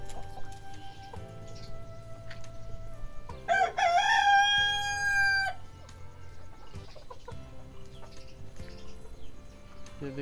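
Two eight-month-old Aseel roosters cluck softly, then one lets out a single loud, drawn-out crow lasting about two seconds, heard close by.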